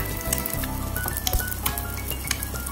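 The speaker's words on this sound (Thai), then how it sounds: "แล้วเราก็มาเริ่มทำกันเลยแม่พึ่งจะทอดไข่ดาวในน้ำมันที่ร้อนจัดๆนะคะ" A fried egg sizzles in plenty of very hot oil, crackling and popping steadily at low volume, with a few light clinks of a utensil.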